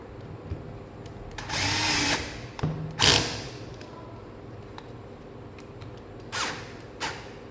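A power screwdriver drives screws into an electrical socket on a test board, with short whirring bursts, a longer run and a few clicks between them, loud and close with no talking.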